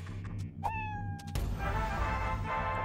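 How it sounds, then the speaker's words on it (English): A cat from the video game Fallout Shelter gives a single clear meow, rising then falling in pitch, close and alone, followed by a wash of soft game background noise. "It is another cat."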